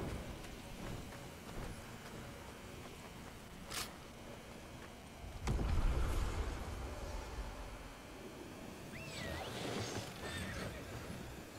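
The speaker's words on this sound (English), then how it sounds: "That horse noise." A horse whinnies once in the middle, with a brief higher squeal later, over steady outdoor rumble and some hoof-like clatter.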